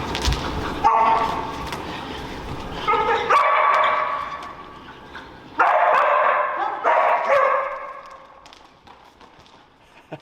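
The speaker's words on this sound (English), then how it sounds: "Has he barked like that for the common calls?" A dog named Momo barks in frustration during recall training, several loud close barks in bursts with whimpering yips between them, while a trainer's voice speaks over parts of it.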